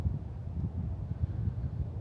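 Wind gusts buffet the microphone at the top of Stone Mountain, a low continuous rumble that swells and dips in loudness, with no voices.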